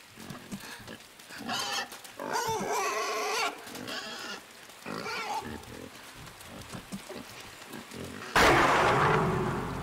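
A pig enemy in a video game grunts and squeals in a run of loud, close bursts, and a harsh noise blast lands near the end.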